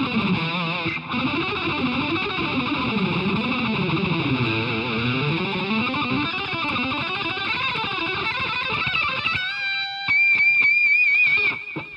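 Electric guitar picked through a distortion effect, a steady stream of fast, close, loud notes with a wavering tone, ending in a few sharper ringing notes.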